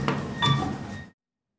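A ThyssenKrupp center-opening elevator door in a hospital parking garage slides open with a brief clunk and rumble, then a short chime before falling silent.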